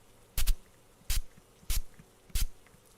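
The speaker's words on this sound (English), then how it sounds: "I like the spray sounds too." Four short, sharp spray bursts from a bottle, evenly spaced and close, each a quick hiss with quiet gaps between.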